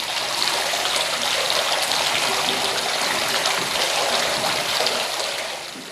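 Hot water poured into a vat of cheese curds and whey during cheesemaking, a steady, loud rushing flow without pause that eases slightly toward the end, with no voices.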